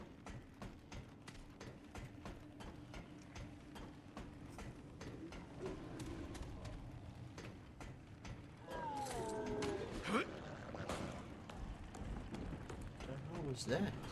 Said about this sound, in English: Sounds like whatever made that sound is snorting pure mucus.